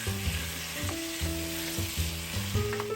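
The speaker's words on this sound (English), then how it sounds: "Allow it to cook for another maybe 5 to 10 minutes in the sauce." Peppered snails simmer and fry in a sauce for a Ghanaian dish, giving a steady, close sizzle and bubbling that continues throughout with no talk.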